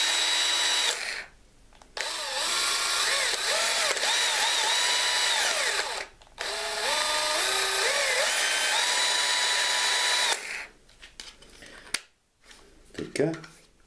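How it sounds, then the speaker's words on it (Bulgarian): A Parkside 20V Li cordless drill driver runs loud and close at second speed while drilling, in long sustained whining bursts with pitch shifts as it loads, broken by short pauses, then trailing into brief handling noise. "Това е звука при втора скорост, при пробиване."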